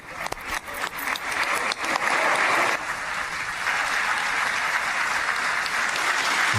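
Sustained applause fills a parliament chamber as the Indian prime minister arrives at the Israeli parliament. It starts with scattered claps, then becomes a dense, loud, steady ovation that carries on without a break.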